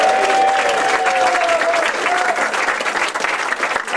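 Wedding guests clap loudly for the best man in a reception hall, dense sustained applause that starts full and tapers slightly toward the end, with a faint tone sweeping across early on.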